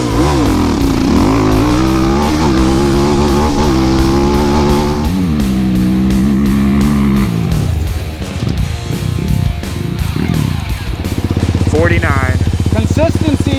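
A modded Honda 400EX and a Kawasaki KFX450R drag race, their ATV engines roaring loud and close as they rev and climb through the gears, then wind back down and rise again, with voices talking over the noise.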